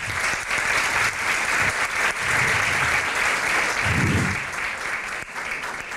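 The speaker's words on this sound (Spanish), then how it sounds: "Un aplauso para todos ellos." Applause from a school audience for participants in a final Jesuit schools' debate, steady, loud crowd clapping that continues throughout, with a few low voices faintly beneath it.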